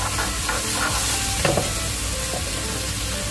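Prawns frying in a wok in tomato sauce give a steady close sizzle, with stirring and scraping clatter and a stronger burst of spatter midway; no one speaks.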